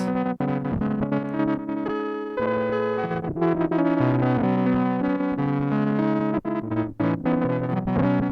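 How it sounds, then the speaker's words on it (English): Guitar played through a Chase Bliss Generation Loss MK2 lofi pedal, turned way up, with a warbling, wobbling, dropout-prone tape sound like sticky worn VCR tape; sustained loud chords with brief dips, no talk. "It almost sounds like sticky tape syndrome, where the tape in a VCR gets stuck to the heads."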